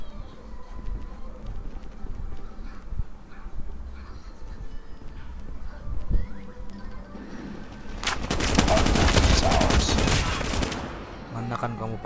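Call of Duty gameplay with a dense burst of rapid gunfire erupting midway and lasting several seconds, loud and close, after quieter game ambience and scattered shots.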